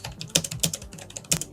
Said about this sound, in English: One thing that MSI's been doing on their laptops for a while now is Cherry MX keyboards, which sound and feel very nice.